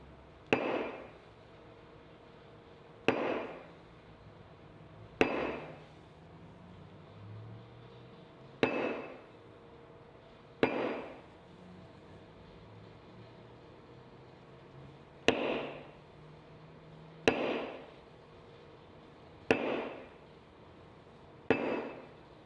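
A leather tooling stamp struck on a leather tally book cover, ten sharp, evenly spaced taps about two seconds apart, each ringing briefly, close and clear with no talk.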